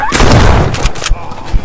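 Gunfire in the zombie shooter game Purge Dead Outbreak, several loud close shots in quick succession with sharp bursts and ringing tails, followed by a couple of spaced single shots.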